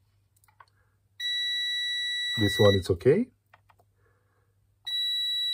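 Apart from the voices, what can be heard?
multimeter beeping in continuity mode on fuses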